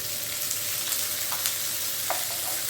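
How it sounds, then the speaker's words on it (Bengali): Boiled potatoes sizzle in a frying pan with hot oil and chopped chillies, a steady close crackling hiss with a few brief scraping stirs, no voices. "এবার আমি আলু সেদ্ধ করে রেখেছিলাম, এই আলু সেদ্ধগুলো আমি দিয়ে দিচ্ছি।"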